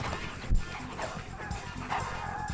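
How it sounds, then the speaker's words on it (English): Hounds on a drag hunt across open country, giving faint, scattered yelps and barks mixed with low rumbling background noise. "The hounds are right behind us."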